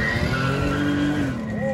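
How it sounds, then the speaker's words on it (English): Car tires squeal and skid continuously as a vehicle does donuts around a truck, a loud close screech over an engine roar with a rising whine near the end. "See how many donuts you can do?"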